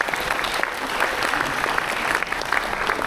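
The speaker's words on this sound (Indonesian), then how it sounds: "Kita beri tepuk tangan untuk anak-anak kelas 9." Grade 9 students are applauded at a school completion ceremony with steady, dense clapping from a seated crowd, even in level and sustained throughout, with no voices standing out.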